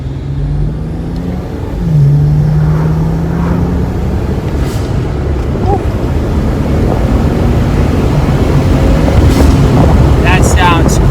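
BMW 335i fitted with a 2JZ engine accelerating hard, with a loud, sustained engine roar and rising tone. Heavy wind buffeting sits over it throughout.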